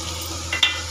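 Ginger garlic paste frying in hot oil for sambar, stirred with a quick scrape, giving a steady close sizzle with a brief louder stirring clink partway through.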